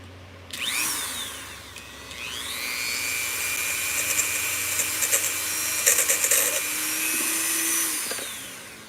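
Handheld rotary tool grinding stone with a 120-grit sanding attachment, whining steadily at high speed after spin-up, with the pitch shifting as it loads and eases against the rock, close and loud throughout.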